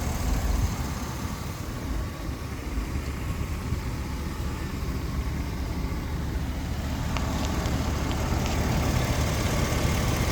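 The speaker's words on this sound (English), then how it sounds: "Listen to the motor." A 2004 Hummer H2 custom SUV with a Vortec supercharger idling steadily, a constant low rumbling drone held at an even level throughout, close by with no talking.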